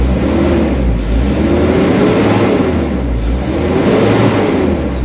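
A Nissan NV350 Urban Premium van with low power and throttle delay revs its engine in a loud, steady, droning roar that rises and falls slightly and fills the whole stretch without pause.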